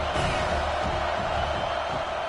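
A large football stadium crowd at an Alabama versus Michigan game roars steadily in support of the defense on a third down. The sustained, loud, broad wash of cheering stays dense throughout.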